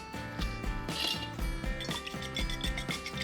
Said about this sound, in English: Slightly whisk.